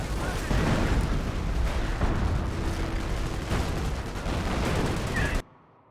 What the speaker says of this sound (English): More artillery behind them.